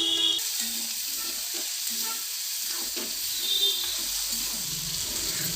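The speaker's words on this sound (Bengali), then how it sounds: "দিয়ে এবার ভালোভাবে চিকেনটাকে কষিয়ে নিতে হবে।" Chicken stir-fried in a pan with garam masala, cumin and coriander powder for a stuffed pointed-gourd dish, a loud steady close sizzle with scraping stirs throughout and no voices.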